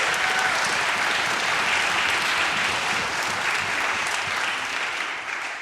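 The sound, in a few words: audience applause at a string camp concert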